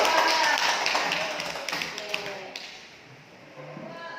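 A class audience gives group 2 a round of light applause, scattered clapping that fades over a few seconds while voices murmur in the room.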